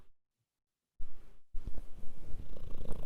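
A pet cat purrs close by in a steady, low rumble that starts after a near-silent first second, with a short break before it resumes and continues evenly.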